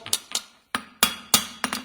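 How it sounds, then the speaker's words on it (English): A hammer strikes a horseshoe in a quick series of about eight sharp metallic blows, close and loud, some in fast pairs, with brief pauses between. "So it's a couple of smacks. And that's it. And I always do that, hammer it in, get it set up."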